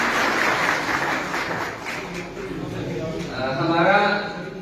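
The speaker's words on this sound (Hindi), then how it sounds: "बाहर संघ के लिए भी मैं चाहूंगा कि तालियां बजाने की" An audience claps through a municipal swearing-in ceremony, a dense continuous applause that dips slightly and then swells again, with a voice talking over it.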